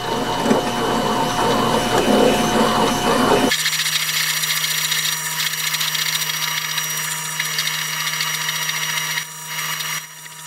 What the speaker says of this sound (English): I'm gonna just drill down 1 inch.